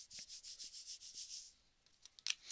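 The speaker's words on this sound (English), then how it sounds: "So we're going to go ahead and rub this down." A surface is rubbed down by hand in quick, even back-and-forth strokes, a soft rhythmic scratchy hiss repeating about twice a second, then stopping and giving way to a few faint handling taps, with no talk.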